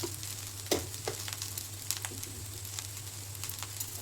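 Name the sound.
frying fried rice ingredients together in a pan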